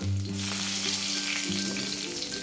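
Chopped garlic, ginger and a green chili fry in hot oil with cumin and mustard seeds while cabbage manchurian is made. The close, loud sizzle crackles steadily throughout, with no talking.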